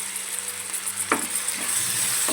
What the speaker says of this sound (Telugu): ఇప్పుడు బంగాళదుంప వేసుకుందాం